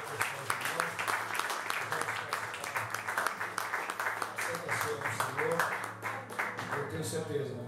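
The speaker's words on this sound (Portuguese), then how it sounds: "Quem crê nessa palavra, aplauda o Senhor," Church congregation clapping in steady rhythmic applause during a sermon, a quiet, dense patter of many hands that runs throughout while a voice speaks over it.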